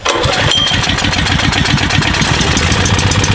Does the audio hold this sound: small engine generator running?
yes